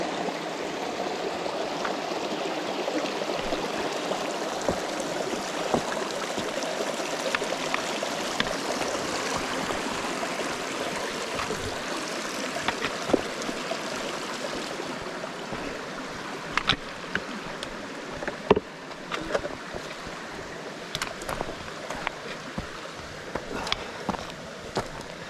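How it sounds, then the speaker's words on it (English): A forest stream flows steadily near Creek Shelter in George Washington National Forest as a continuous gentle rush, with a few faint footsteps and knocks that grow more frequent toward the end. "see what that stream has to offer"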